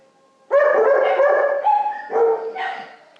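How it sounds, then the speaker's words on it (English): Several dogs barking and yipping in an animal shelter kennel, loud and close, in overlapping bursts for about three seconds with no talk. "all the other loud doggies in here"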